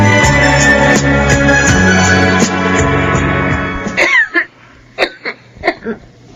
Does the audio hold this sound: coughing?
yes